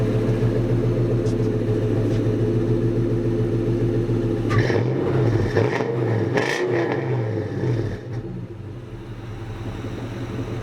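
A car engine with a newly fitted exhaust pipe revs hard several times in bursts, loud and close, settling back to a steady idle between blips, with no talking.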